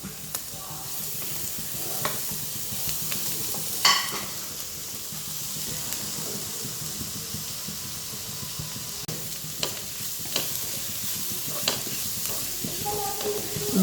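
Onions with ginger garlic paste sauté in a pan, a steady close sizzle with occasional scrapes and clinks of a stirring spoon throughout, no talking.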